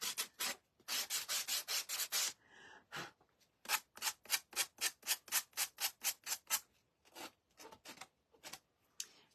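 A wooden Uncle Sam door hanger craft piece gets its painted edge sanded to knock off excess paint: a close, brisk series of rhythmic scratchy strokes with a few short pauses between bursts.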